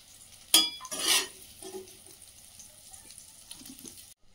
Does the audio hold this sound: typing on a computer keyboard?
no